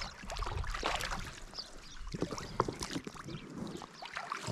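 A small boat moves across water while fish bait is scattered, with faint splashes, paddle-like sloshing and irregular soft knocks and rustles, fairly quiet and close, without speech.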